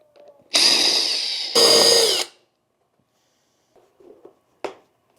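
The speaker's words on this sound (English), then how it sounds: "So we're going to start with drilling out these rivets." A power drill drills out rivets on a leather Occidental toolbelt pouch, two close, loud bursts of about a second each, followed by quiet with a few faint clicks and taps.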